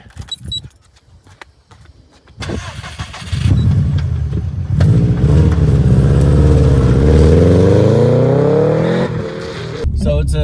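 A 2001 Subaru WRX STI in Red Mica starts with a short crank, then its engine revs up loudly and holds a strong rising idle close by, with people talking briefly at the start.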